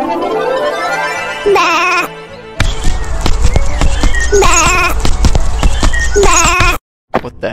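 Sheep bleats from the retro-styled video game Janosik, several short wavering cries broken by gaps and game sound effects, loud and close with no talk over them.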